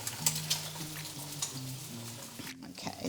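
Eggs frying in a pan for a British fry-up, a steady close sizzle and crackle with faint tonal hum underneath and a brief clatter near the end.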